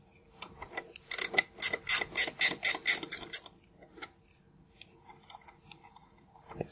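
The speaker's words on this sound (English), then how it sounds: "ratcheting wrench here" A ratcheting wrench backing nuts off a threaded rod on a car's clutch pedal assembly, about ten quick, close, crisp rasping clicks in a steady rhythm, then a few quieter scattered clicks and small metal taps.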